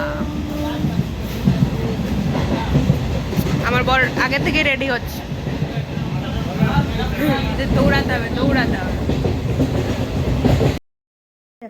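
A passenger train runs on its rails near Burnpur with a steady, rumbling rattle heard from inside a carriage, while someone talks hurriedly over it.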